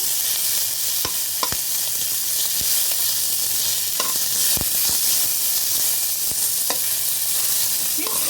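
Fenugreek leaves fry in a pan for chutney, giving a steady, loud sizzle throughout with occasional clicks and scrapes of stirring, close up and without talk.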